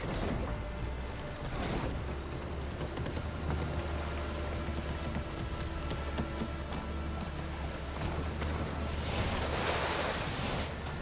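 Ocean waves wash around a sailing boat in the video game Horizon Forbidden West: Burning Shores. A steady surf and wind rush runs throughout, with a louder swell of spray near the end.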